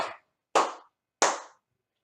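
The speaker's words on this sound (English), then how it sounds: "That's a clap from the play." Three sharp, separate claps spaced about half a second apart, each fairly loud with a quick decay, no voices around them.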